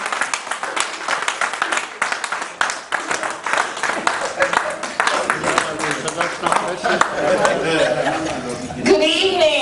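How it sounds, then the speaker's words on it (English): Audience applause at the Nigerian Sports Journalists In Diaspora inaugural convention, a dense wash of clapping that runs steadily through the clip with crowd chatter and a voice over it. "So let's give her a round of applause."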